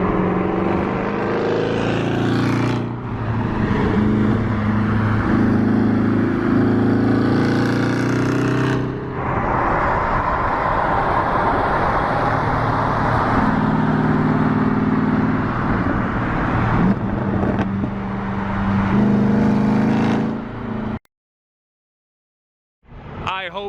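A Jaguar car engine drones loudly and steadily nearby, surging and easing several times as it revs. It cuts to near silence briefly at the end.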